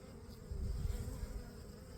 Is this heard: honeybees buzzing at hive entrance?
yes